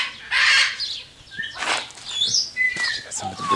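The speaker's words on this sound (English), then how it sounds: "Got some of the birds squawking." Birds in a large cage squawk and chirp in sharp, scratchy bursts, several calls overlapping close by, with a soft flutter of movement between them.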